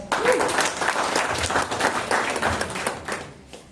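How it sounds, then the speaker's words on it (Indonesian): An audience claps steadily for a man called Pak Sas, the head of the founding committee, at an ASPIKMAS leadership training session, with a dense, even patter of hands held close and loud throughout. "Ya, tepuk tangan Pak Sas."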